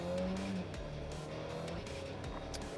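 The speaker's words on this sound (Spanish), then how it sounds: "una prueba de aceleración de 0 a 100 para ver cómo se las gasta este Tonale" An Alfa Romeo Tonale SUV accelerates at full throttle from 0 to 100 km/h. The engine drones loud and steady with rising tones, and there is no talk.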